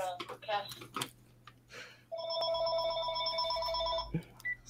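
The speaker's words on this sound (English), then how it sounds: "there's a phone call" A telephone rings with a steady electronic tone lasting about two seconds before it is cut off, heard after a stretch of indoor talk and typing-like clicks, with a voice speaking briefly at either end.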